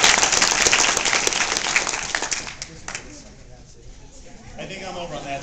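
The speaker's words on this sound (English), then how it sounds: "Give Vanessa a round of applause." Applause and cheers from an audience at a live animusical show, a dense burst of clapping that thins out over several seconds as voices begin to talk beneath it.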